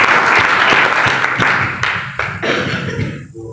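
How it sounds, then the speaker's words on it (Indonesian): A church congregation claps during a fasting-prayer session at Gunung Salak in Bogor, with a dense burst of applause that thins out and fades within a few seconds, with a cough or two near the end. "Boleh berikan tepuk tangan yang paling mulia bagi Tuhan untuk saudara."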